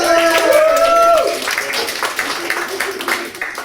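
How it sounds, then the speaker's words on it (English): A comedy club audience at the Leicester Comedy Festival claps in a burst of applause, starting as a trailing group cry fades and continuing as a dense patter of hands. "Give yourselves a round of applause!"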